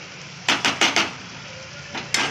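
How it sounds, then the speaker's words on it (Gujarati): Pav bhaji being mashed with a masher in a pan: a quick run of four dull thudding presses, a pause over a low sizzle, then two more thumps. "અને મેસરની મદદથી આપણે બધું મિક્સ કરી નાખીશું"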